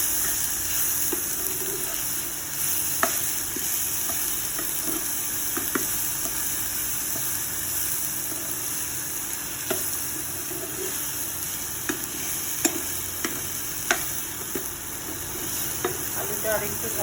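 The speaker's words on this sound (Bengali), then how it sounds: "এর মধ্যে তেজপাতা, জিরে, আদা, টমেটো, কাঁচা লঙ্কা, গরম মশলা সব একবারে ফোড়ন দিয়ে তারপর আলুটা ভাজবো।" Potatoes fry in hot oil with bay leaf, cumin, ginger, tomato, green chilli and garam masala, a constant close sizzle broken by scattered clicks and scrapes of stirring, with no talk.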